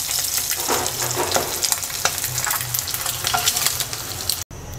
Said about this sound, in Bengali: ডিম ভাজা হয়ে গেছে, এবার তুলে নিচ্ছি